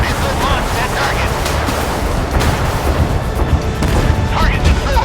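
Missile launches and explosions in the naval combat game Force of Warships, with dull booms and rumbling blasts over constant sea-like noise while a voice talks.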